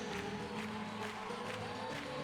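Crowd cheering and roaring at a Rio 2016 Paralympic wheelchair fencing bout after a medal win, a steady dense wash of voices and whistles from a large arena audience, continuous and fairly loud throughout.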